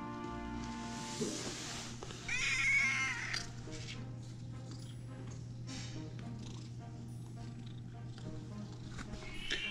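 A sick barn kitten with a cold meows once or twice, close and fairly faint, over a steady low hum while people talk nearby.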